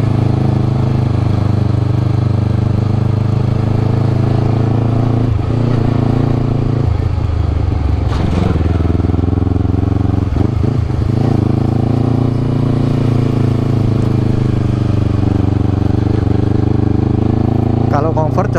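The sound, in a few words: Honda CBR250RR motorcycle engine while riding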